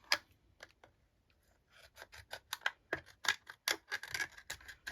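Scissors snipping through acetate packaging at close range, starting with a few sparse cuts and then a quick run of sharp, crisp snips.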